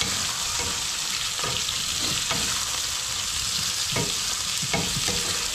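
Eggplant sautéing in a pan gives a steady, bright sizzle with occasional stirring scrapes, continuous and fairly close, with no voices.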